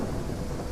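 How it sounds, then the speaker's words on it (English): Thunderstorm in the Gothic Remaster video game, a steady loud wash of rain and low rumbling thunder filling the whole moment with no voice over it. "Can barely hear me over the storm."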